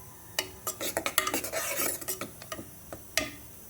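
Onion, tomato, green chilli, coriander and mint being sautéed for a coconut-milk mutton biryani, a spoon scraping and stirring in quick, uneven strokes against the pot over a faint sizzle, close and fairly loud, with no voices.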